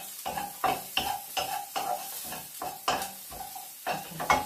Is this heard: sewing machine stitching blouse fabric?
no